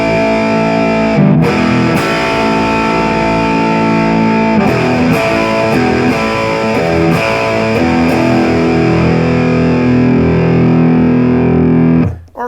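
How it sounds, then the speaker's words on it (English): An electric guitar played through a Friedman BE Mini 30-watt amp head with a distorted, slightly clean-edged tone, strummed chords and riffs ringing loud and steady for about twelve seconds before cutting off abruptly. "It still has a really good, actually cleanish, distorted sound to it."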